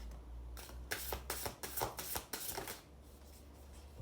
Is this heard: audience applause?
no